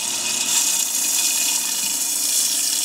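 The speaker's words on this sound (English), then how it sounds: "You can add a little bit of the water" Water poured into a blender while preparing vegan polenta or a tahini lemon sauce: a steady, close rush of liquid that stays level throughout, with no voices.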